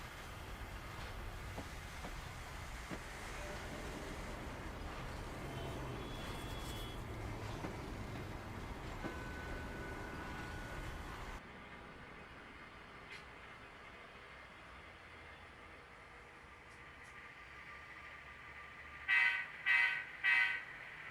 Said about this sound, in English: the train heads to Reading, Pennsylvania